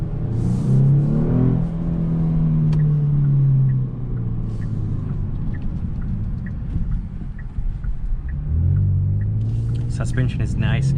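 A 2022 Genesis G70 Sport Advanced in sport mode is downshifted to first gear, with engine rumble and revs swelling and falling over steady cabin noise while someone talks over parts of it.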